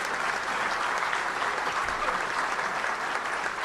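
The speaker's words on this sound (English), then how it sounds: "So let's give a huge round of applause to Oaklawn and the city of Hot Springs." A dense, steady round of applause from a luncheon audience at the Little Rock Touchdown Club fills the room, many hands clapping at once with no pauses.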